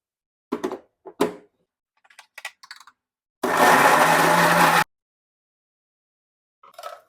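A kitchen mixer grinder whirs in one loud, steady burst of about a second and a half as it grinds fried onion, tomato and green chilli into paste, with a few clatters of handling before it and faint knocks after.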